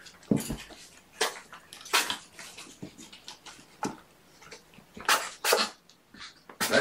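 A foster kitten lets out several short, sharp sneezes in quick bursts, close by, with soft rustling and small clinks between them.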